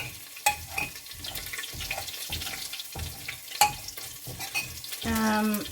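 Garlic fries in a pan for a black chickpea curry, a steady close sizzle broken by repeated stirring scrapes and clacks, with a louder hiss swelling at the end.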